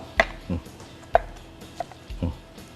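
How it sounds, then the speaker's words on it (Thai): A knife chopping soaked glass noodles on a cutting board for a Thai clear soup with minced pork, a few sharp separate cuts spaced irregularly, close and fairly quiet. "นี่วุ้นเส้นที่เราแช่ไว้แล้วนี่ นะครับ ผมหั่นหน่อยนะ"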